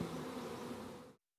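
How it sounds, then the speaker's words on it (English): Honey bees at an urban bee farm make a dense, steady buzz close to the listener, holding for about a second before stopping abruptly. "Now they know how comfortable or uncomfortable their bees are just by the buzzing"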